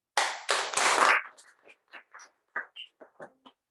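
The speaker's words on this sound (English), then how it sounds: "let's give a big, huge round of applause for all the role takers" A short burst of clapping from a small group of meeting attendees for the role takers at a hybrid meeting, loud for about a second, then trailing off into a few scattered claps and taps.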